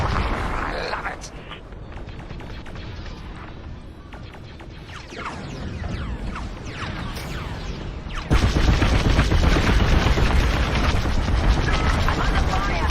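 Starfighter blaster fire in the game Star Wars: Squadrons, repeated rapid shots and crashing impacts over a constant engine roar, getting louder and denser near the end, with a voice speaking over the battle.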